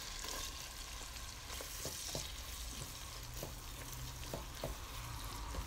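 Fried pork sizzles in a pan with ginger, garlic and onion for ginataang laing, a steady, fairly quiet frying hiss broken by occasional scrapes and clicks of stirring.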